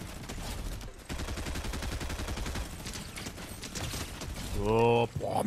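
Fortnite minigun firing a long, steady, fast mechanical stream of shots, loud and continuous for several seconds with a short pause near the start, ending with a voice speaking over it.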